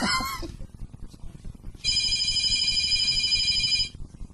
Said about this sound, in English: Whose phone is that?